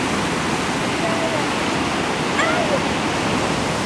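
Ocean surf rolling onto a beach, a broad steady wash of crashing water that fills the whole stretch, with faint brief squeaks over the roar.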